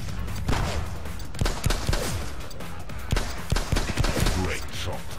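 Gunfire in The Club video game, a run of sharp shots spaced irregularly across the clip at steady volume over a constant game backdrop, with a voice talking under it.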